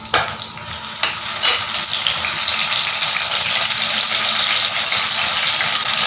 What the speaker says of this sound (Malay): And the onions, just fry them until they turn a nice purplish brown color